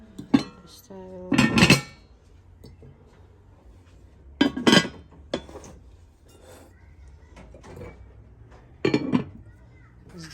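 Cookware being handled, including a large frying pan, a 3.8-litre 240 mm pot and fitted lids, giving sharp metallic clanks and clinks in a few separate loud bursts with quieter rattling between them.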